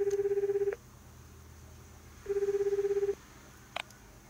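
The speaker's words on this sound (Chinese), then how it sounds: "哔哔哔，妹妹接电话" A telephone rings in a short escape RPG video game, two clear electronic ring bursts separated by a pause over a quiet background hum, followed by a brief faint blip.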